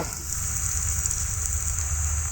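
Chopped onions sizzle softly in an oil-filled pan, a steady faint hiss of frying with no talk.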